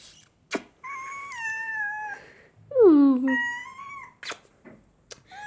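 Cat meowing in several drawn-out, wavering calls, close and fairly loud, the lower second call rising to a strained yowl, with short knocks and handling noises between the calls.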